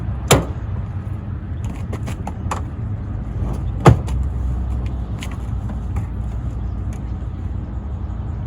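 Someone climbs into the rear seat of a 1996 Geo Tracker, with close thumps, creaks and clicks from seat and door over a low steady interior hum.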